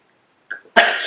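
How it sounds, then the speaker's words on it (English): A single sharp sneeze set off by eyeshadow palette powder, preceded by a brief catch of breath, close and loud. "the powder got me sneezing"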